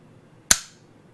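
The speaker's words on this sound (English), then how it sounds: "Starting with the LMT, dry firing." An LMT MARS-L rifle trigger is dry fired, producing one sharp, loud metallic click with a short ringing decay against near silence.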